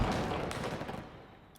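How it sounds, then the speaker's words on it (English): A fireworks goal explosion from the game Rocket League bursts loudly at once, a dense crackling blast that stays full for about a second before thinning out into a fading tail. "Fireworks one"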